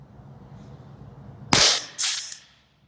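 Airsoft pistol shots from a CZ Shadow 2 and a 19X, two sharp cracks about half a second apart after a quiet stretch of faint background hiss, each followed by a short fading tail.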